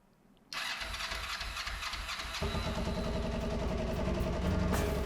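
A Kawasaki Vulcan 500 motorcycle engine cranks and fires after a restoration with a cleaned carburetor and de-rusted gas tank, then settles into a loud, steady, close idle that rises slightly in level.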